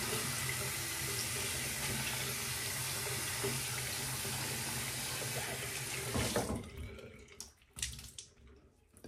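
Tap water runs steadily into a sink to wet a shaving brush, a loud continuous splashing stream for about six seconds before it cuts off, leaving a few faint drips and handling sounds.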